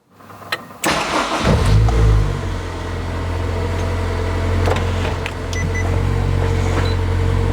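A Honda S2000 sports car starts with a sharp crank, then its engine settles into a loud, steady, close running drone that holds to the end.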